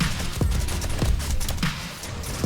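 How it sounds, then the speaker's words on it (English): Submachine-gun turrets in the 7 Days to Die video game fire at zombies, a few sharp bursts and shots spaced across the moment over a steady noisy background, with no talking. "I've got SMG turrets on each side, and they'll take out these guys just like that other one"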